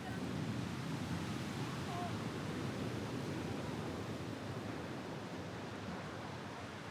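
The sea pounds against the steep, almost vertical cliffs of the Corsican coast in a continuous broad roar of surf, mixed with wind buffeting the microphone.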